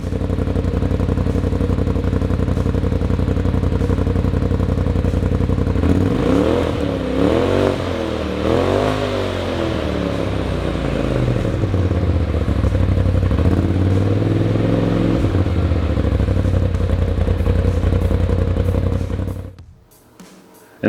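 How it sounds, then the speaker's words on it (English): A 2020–2021 Polaris RZR Pro XP fitted with an S&S PowerTune XTO muffler idles loudly and close, then blips through several rising and falling revs mid-run before settling back to a steady idle and shutting off abruptly at the end. "we're going to fire it up so you can listen to it"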